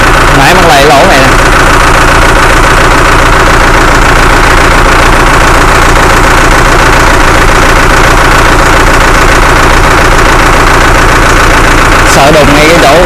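A Zetor Global 2160 tractor engine runs steadily in a farm field, a loud, close, continuous diesel drone with a knocking edge that dips briefly near the start and end.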